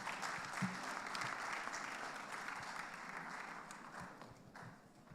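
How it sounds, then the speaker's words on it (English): Conference audience applause for the association president at an international annual general meeting, heard as a quiet, distant, sustained round of clapping that gradually tapers off. "A round of applause for the APTOCOM president."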